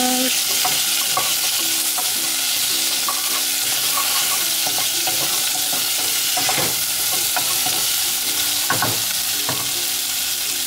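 Spice powders are stirred into a hot pan for an Ayurvedic lentil dish, with a loud continuous sizzle under repeated scraping and clinking strokes of a utensil, close up and without talk.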